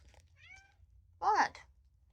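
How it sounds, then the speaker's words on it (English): A cat gives a short, loud, insistent meow close by, following a faint thin chirp in a quiet room. "I just got yelled at by a cat"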